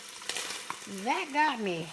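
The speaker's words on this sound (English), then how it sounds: "I'm going to add in my vegetables now and let them saute for a few minutes" Vegetables sauteing in a hot pan for cabbage and sausage soup give a steady close sizzle, with a person's exclaiming voice partly over it.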